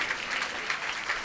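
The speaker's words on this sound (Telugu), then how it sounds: "చప్పట్లు కొట్టి గట్టిగా స్తోత్రం చెప్పండి" A church congregation bursts into brief, dense applause during Sunday worship, a steady wash of many hands clapping together.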